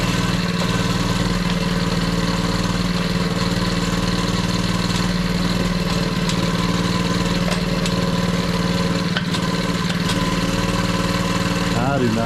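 Pit bike engine idling continuously and loudly up close, a steady low droning rumble with constant vibration throughout.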